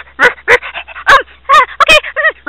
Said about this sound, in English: Now we will meet the St. Bernards.